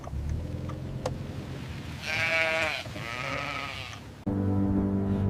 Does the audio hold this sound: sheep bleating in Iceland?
yes